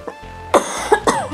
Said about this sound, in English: I've got a cough, so please excuse me.